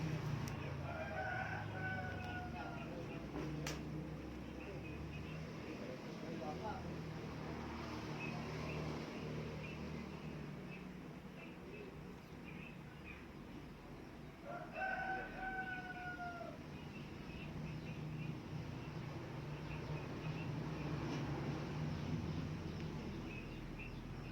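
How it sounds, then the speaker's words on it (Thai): Rooster crowing outdoors over a low background hum in a Thai kitchen where a sour curry is cooking, with two distinct crows, the first early and the second around the middle, plus faint bird sounds. "จะมีเสียงไก่เสียงนกดังเข้าไปบ้าง"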